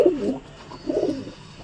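A female Madras pigeon coos twice, soft low throaty calls close by with a short pause between them.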